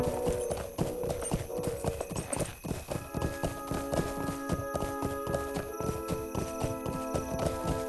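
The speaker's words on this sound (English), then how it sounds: "riding the horses all the way back to the stable" Rhythmic hoofbeats of horses galloping in the video game The Lord of the Rings Online, steady and close, layered over a continuous musical backdrop with no talking.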